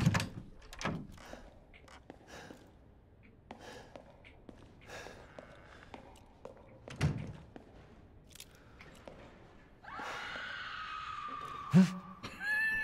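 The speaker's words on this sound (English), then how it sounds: "That's the most stock scream I've ever heard." A stock scream sound effect from the video game Resident Evil Village rings out briefly near the end, a sharp high cry after quiet footsteps, door sounds and low game ambience.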